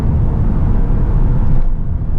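A 2019 VW Arteon R-Line's engine pulls hard under acceleration toward redline, a loud, steady low drone heard from inside the car, tapering slightly near the end.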